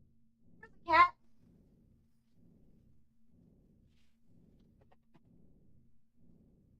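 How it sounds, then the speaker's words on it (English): A single short cat meow sounds once from the video game Cloverpit, bright and brief, then gives way to a faint, low, pulsing background loop. "Cat?"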